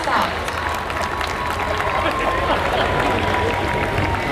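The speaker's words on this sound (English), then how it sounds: "Please give a big round of applause to this colourful start." Stadium audience applause at the opening of the Subroto Cup football tournament, dense continuous clapping with crowd hubbub, a thin tone running through it.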